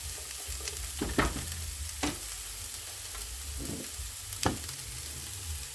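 Chopped onion sautés in olive oil with a soft, continuous sizzle, broken by a few louder stirring scrapes and clinks.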